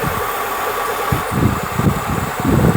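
A Kia Capital car engine idles with a rough, steady rumble that fluctuates slightly in speed and grows a little louder toward the end, with no talking over it.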